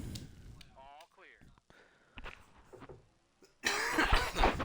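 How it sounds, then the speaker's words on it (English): A person coughs close to the microphone amid scattered vocal noises, ending in a loud, rough burst. "Had to cough."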